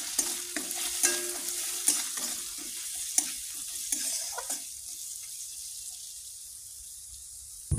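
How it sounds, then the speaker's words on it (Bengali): Spices fry in a pan with turmeric and chili powder, producing a close, steady sizzle broken by repeated scraping stirs that fade toward quiet near the end. "হলুদ গুঁড়ো, এই যে লঙ্কার গুঁড়ো দিয়ে এটাকে একটু কষিয়ে নিব।"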